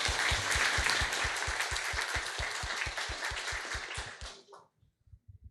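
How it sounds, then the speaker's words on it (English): An audience at a tech talk event applauds in a dense burst of clapping, with a steady low thumping beat running underneath. The clapping thins and stops abruptly near the end, leaving a few faint thumps. "Big round of applause for Julian, please"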